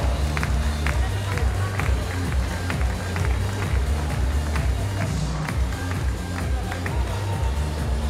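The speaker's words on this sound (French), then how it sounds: "Vos applaudissements." Applause from an audience at a cattle show for a dairy cow, steady dense clapping and crowd noise with low rumbling murmur beneath, continuous throughout.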